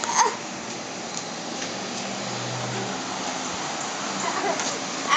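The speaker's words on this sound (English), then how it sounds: "It's a wet and rainy, blah-ish day, as you can tell." Rain falls steadily at a park on a wet day, a constant even patter and hiss with a few nearby splashes and faint movement sounds.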